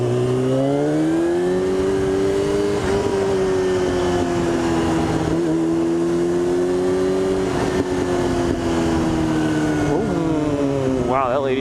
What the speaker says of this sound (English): I'm on a motorcycle, so I turn slowly.